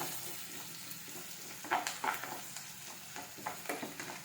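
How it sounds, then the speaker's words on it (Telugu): Curry leaf rice ingredients fry on a high flame, giving a steady close sizzle broken by a few sharper stirring scrapes and pops, with no voices. "కొంచెం హై ఫ్లేమ్లో పెట్టుకొని కుక్ చేసుకోవాలి"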